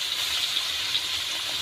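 Raw banana pieces coated in turmeric sizzle in hot oil, a continuous bright, hissing fry at a steady loud level.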